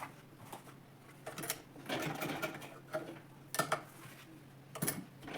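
A sewing machine stitches fabric for a scissors organizer made from waste fabric, in short irregular bursts with clicks and handling noises between them, close by and fairly quiet.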